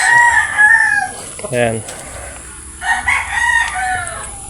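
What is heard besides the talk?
chickens crowing in a small gamefowl pen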